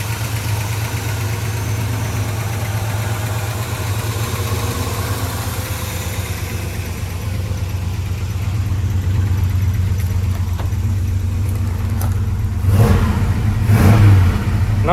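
A restored 1972 Chevy C10 Cheyenne with a factory-style muffler idles with a steady low rumble, then gets a couple of short revs near the end.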